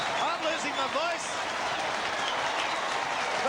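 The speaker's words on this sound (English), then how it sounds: "The crowd have gone berserk." Rugby league crowd cheering at a 1982 Manly versus Easts match, a loud continuous roar of stadium noise with a commentator's excited voice running over it throughout.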